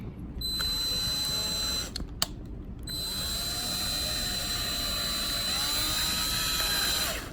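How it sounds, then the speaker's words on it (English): A power drill whirs steadily up close, pausing briefly before spinning up again and running continuously as it drives a screw into a Rustler RWD caster block. "Now get your screwdriver or drill. I have a drill."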